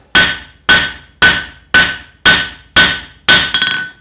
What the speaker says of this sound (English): So what I'll do is come back up on the top of the anvil,